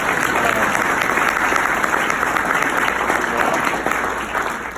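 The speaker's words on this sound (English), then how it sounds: "But can you guys give her a round of applause?" A conference audience at a leadership prayer breakfast applauds for the speaker's wife, a dense, loud wash of many hands clapping that holds steady for nearly five seconds before easing slightly.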